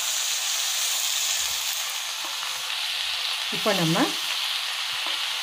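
Asafoetida, sambar powder and turmeric sauté in a pan, a steady close frying hiss with a brief spoken phrase over it near the end.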